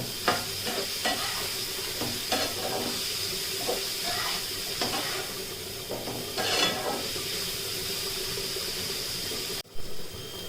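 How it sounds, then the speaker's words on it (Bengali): Bitter gourd and pumpkin frying in a pan give a continuous close sizzle broken by stirring clatter, with no one talking, then a short bump near the end. "উচ্ছে কুমড়োটা আমার ভাজা প্রায় হয়ে এসেছে"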